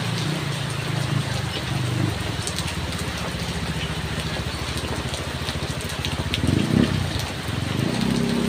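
A passenger motorcycle passes through heavy rain and strong wind, its engine swelling briefly near the end over a steady hiss of downpour, with faint talk underneath.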